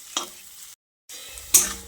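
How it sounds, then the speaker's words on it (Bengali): A spoon scrapes and stirs green chilies and coriander leaves in a frying pan, with short bursts of sizzling and clatter broken by a brief silence. "এবার এই কাঁচা লঙ্কাটাকেও এর সঙ্গে ভালো করে নেড়ে চেড়ে মিশিয়ে নিচ্ছি।"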